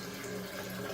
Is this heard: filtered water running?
yes